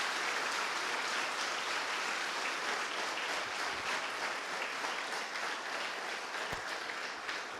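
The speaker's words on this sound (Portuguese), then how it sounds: "Vamos aplaudir o nosso Deus bem forte." A church congregation at a Sunday celebration service applauds loudly and steadily, a dense, sustained wash of many hands clapping at once without any talk over it.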